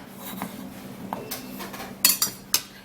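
A peeled potato being cut into pieces on a kitchen surface, with a knife tapping and clinking in several separate strokes. The last few are sharper and louder.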